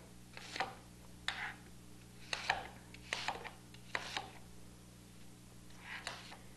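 A kitchen knife cubing butternut squash and apple on a cutting board for soup: a handful of crisp, separate chops spaced irregularly, close and fairly quiet, with no talking over them.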